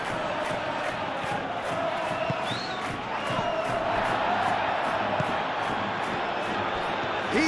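Stadium crowd in the Football Life 26 football video game, a steady roar of cheering and chanting heard under continuous commentator speech.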